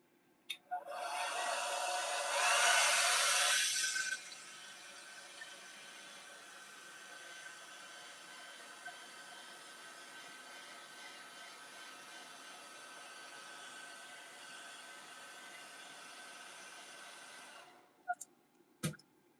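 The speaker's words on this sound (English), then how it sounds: "I might actually hit this one with the hair dryer really quick so that it's dry." A hair dryer blows loudly for a few seconds, then continues at a steady, lower whoosh for a long stretch before clicking off, drying an airbrushed fishing lure.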